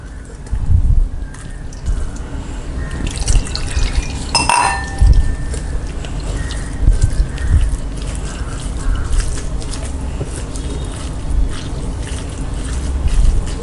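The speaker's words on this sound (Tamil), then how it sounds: "தண்ணி ஊற்றிட்டு நல்லா வாஷ் பண்ணிடணும்" Water is poured over curdled milk to rinse it while making a Bengali cham cham sweet, giving loud, steady splashing and trickling with occasional clinks of a vessel close by.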